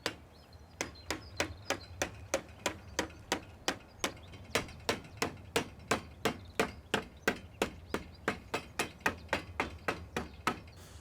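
Steady, evenly spaced hammer blows, about three per second, sharp knocks driving plastic T-profiles into U-profiles while fitting a polytunnel cover, repeating close by with no talking.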